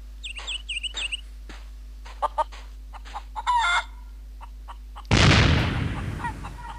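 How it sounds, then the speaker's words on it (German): Chickens clucking in The Curse of Monkey Island video game, a few close clucks and a short crowing burst, then a loud cartoonish blast that trails off. "Dann haben wir vorne wilde Hühnchen."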